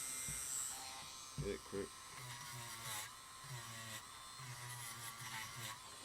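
A cordless Dremel rotary tool runs with a steady high buzzing whine while a Lionel postwar 022 remote switch is reconditioned; someone speaks briefly over it, with a few low thumps partway through.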